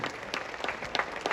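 An audience applauding to honour film director S.V. Rajendra Singh Babu at a Kannada film event, with steady moderate clapping from a crowd at middle distance.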